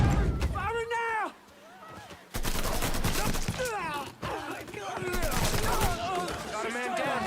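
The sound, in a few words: gunfire in Mafia video game shootout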